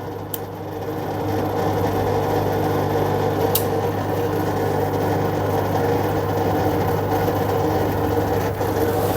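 The motor of an LG top-load washing machine that won't spin hums steadily with a low drone and faint rubbing rasp, with no speed change and one brief click early on.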